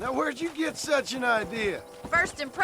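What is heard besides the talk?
None of the usual background noises is heard.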